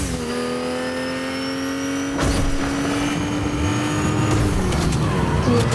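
A car engine in a shooting video game revs loudly and steadily, rising in pitch, then surges again with a harsher roar and gear shifts, dominating the sound with no talking.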